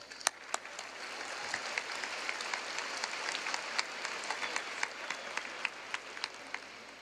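Applause from a large audience at a high school graduation ceremony, a steady wash of many hands clapping with a few sharper claps standing out, moderately distant and continuing throughout.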